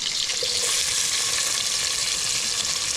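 Onion, garlic and a little chili sizzle in a hot pan while cooking outdoors in the countryside, a dense, steady, close frying hiss with no voices.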